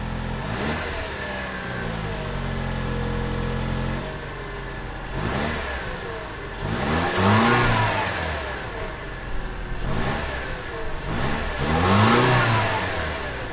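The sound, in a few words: Lexus NX 200t 2-liter turbocharged 4-cylinder engine accelerating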